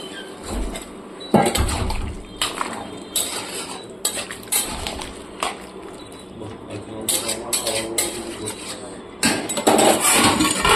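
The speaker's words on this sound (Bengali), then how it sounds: "এরপর আমি গরম জল দিয়ে এটাকে ঢেকে দেবো" Kitchen clatter as hot water goes into a pan of soybean and potato curry with eggplant and the pot is covered: repeated metallic clinks, scrapes and knocks of utensils and lid, with a faint wash of liquid throughout.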